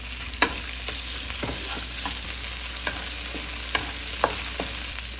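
Mushrooms frying in a pan under a continuous sizzle, with sharp clicks and scrapes of stirring at irregular moments.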